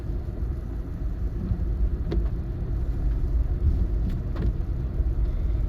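Road traffic passing a horse out on a ride, a continuous low rumble of car engines and tyres nearby with a couple of faint brief clicks.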